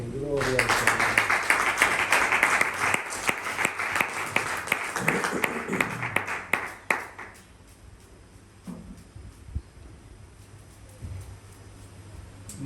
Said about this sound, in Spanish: Y dé un aplauso al Señor